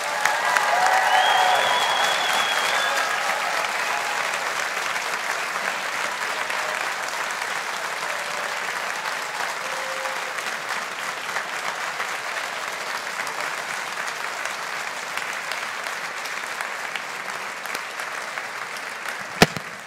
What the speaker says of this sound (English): let's give the class of 2023 one big round of applause